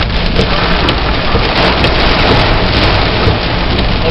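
Heavy rain pours down steadily during a severe thunderstorm in Pittsfield, Massachusetts, a loud, dense, unbroken roar of drops pounding close surfaces with no talk.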